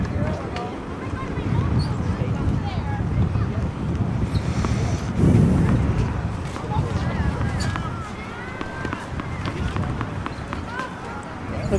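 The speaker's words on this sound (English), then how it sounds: "Looks like the wind is starting to kick back up again." Wind buffets an outdoor microphone at a girls' high school tennis match, a constant low rumble and gusts that swell briefly midway, running under continuous commentary.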